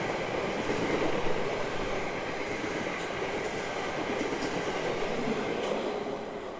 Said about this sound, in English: there's an empty train going to Liverpool Street.